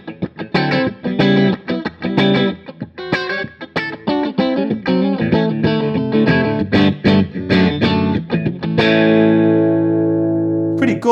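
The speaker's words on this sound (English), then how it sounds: "and then you've got to move to a Strat type sound for the next song." Distorted electric guitar from a digital guitar set to a Strat type tone plays a fast, busy riff of picked notes and chords, ending on a long sustained chord that cuts off.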